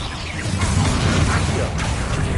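A Confringo fire blast from Hogwarts Legacy roars as a dense, continuous rush of crackling noise and impact, loud and close throughout with no pause.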